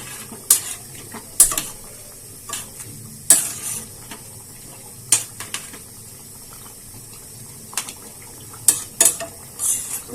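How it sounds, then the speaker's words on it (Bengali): A potato and fish curry is stirred in a pan, with intermittent scraping and clacking strokes of a utensil against the pan separated by quiet pauses, close and soft, no talking. "নাড়াচাড়া করে ডেকে দেবো"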